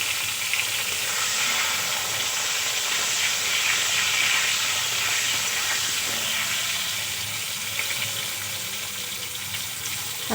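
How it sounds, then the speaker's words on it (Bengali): Salted potatoes fry in mustard oil for a cauliflower, potato and fish curry, giving a steady, close, hissing sizzle with faint stirring scrapes and no voices. "আলুগুলো ভালো করে লাল করে ভেজে নেব"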